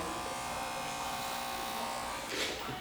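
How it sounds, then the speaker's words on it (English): Electric hair clipper run over a comb while tapering a shadow-fade combover haircut, a steady close buzz throughout that swells briefly near the end. "Now what you can also do is close this clipper and then do clipper over comb again."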